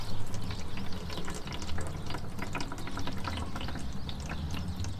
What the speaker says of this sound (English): All we need to do is tip that into a watering can.